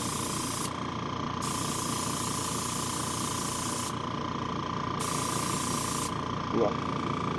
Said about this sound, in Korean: 안쪽을 먼저 이렇게 뿌려 주시고, 나머지 부위를 칠해 주시는 게 좋아요.